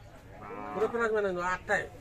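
Dairy cows and calves being traded and loaded at a cattle market bellow in a few short, nearby moos, rising and falling over murmuring background noise.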